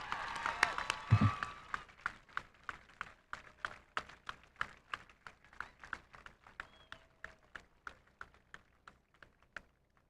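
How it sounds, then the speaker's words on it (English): Scattered clapping rings out at a high school graduation ceremony, starting as a brief burst and thinning to a few slow, distinct hand claps that fade in a large, quiet hall. "Can we give her one more round of applause?"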